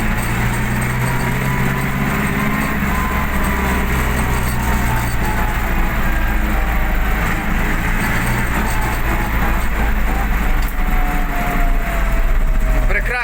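Steady diesel engine rumble heard from inside the cab of an MTZ 1025 tractor fitted with a MAN D0834 engine, loud and continuous with a low droning hum.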